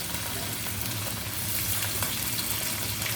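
Garlic hits hot coconut oil in a pan where mustard seeds were just popped, making a soft, steady sizzle and crackle throughout, fairly quiet and with no talking.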